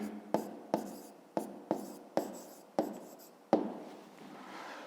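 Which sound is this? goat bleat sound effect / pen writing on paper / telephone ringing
pen writing on paper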